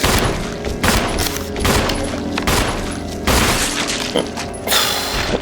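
Gunfire from the Resident Evil HD Remaster video game, shots fired repeatedly at a zombie, comes as a dense series of loud booming blasts with clattering mechanical sounds, and one brighter shatter-like hit near the end.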